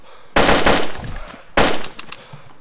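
Two loud bursts of rapid automatic gunfire from the video game DayZ, aimed at zombies, each lasting about a second with a trailing rattle, close and dominant with no talk over them.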